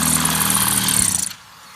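A power drill bores into aquarium reef rock, a loud close whining motor with grinding buzz that winds down and stops abruptly near the end.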